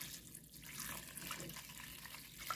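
Water from boiling clams is poured back into a container, a soft, faint, continuous trickle lasting the whole brief moment.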